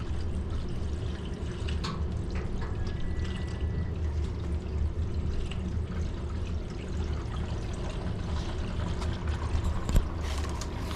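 Water slowly filling an Express Water whole-house filter housing, a steady rushing, gurgling flow at moderate volume with a few small drips and clicks throughout.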